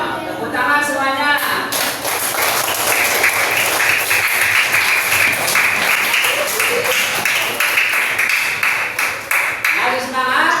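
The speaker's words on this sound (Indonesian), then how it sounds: "Tepuk tangan semuanya." A group clapping hands together in a classroom setting, loud and continuous for about ten seconds, with voices talking over the start and end.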